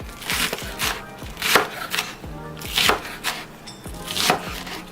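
Knife chopping a yellow onion on a cutting board for red beans and rice, a series of crisp, irregular taps and thuds close up, with short pauses between strokes and no talking.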